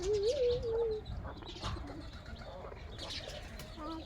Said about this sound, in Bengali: এগুলো হতে আছে পোষা কবুতর